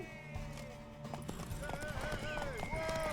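Galloping hooves from a horse race in The Witcher 3 video game drum steadily under loud shouting voices, with a horse snorting and neighing through the busy game mix.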